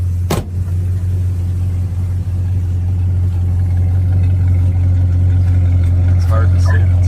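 A running muscle car with dual exhaust idles close by, putting out a loud, steady low rumble that holds even for the whole stretch after a brief knock near the start.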